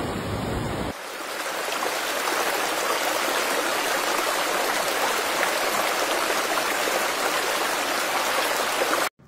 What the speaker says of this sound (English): Queensland's North Australia has been battered with heavy rain, resulting in flash flooding in some areas